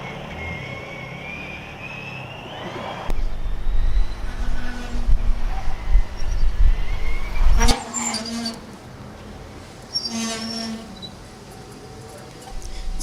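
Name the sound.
Formula Student autocross car with squeaking brakes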